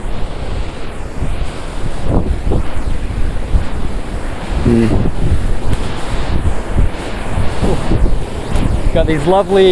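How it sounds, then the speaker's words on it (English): Strong wind and spray roar steadily around a waterfall high on a Rocky Mountain trail, a loud, constant rushing with gusting buffets against the microphone while a person talks over it. "The further I go up, the wetter and the stronger the wind will be."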